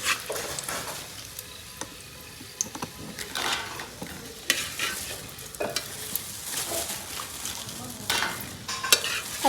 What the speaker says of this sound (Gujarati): આમાં અંદર ભૂંગળા તળાય છે.